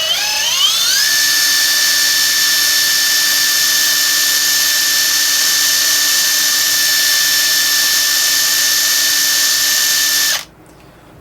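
A Klein Tools BAT20CD compact 1/4-inch hex impact driver running at no load: a steady, loud, high-pitched motor whine that ramps up over the first second, holds for about ten seconds, then cuts off abruptly.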